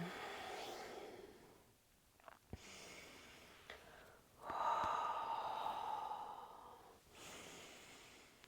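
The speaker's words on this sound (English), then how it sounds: "I'm gonna yawn." Audible yawning during a yoga class: a long drawn breath rises into an open, breathy exhale, with softer sighs and breaths before it in a quiet room.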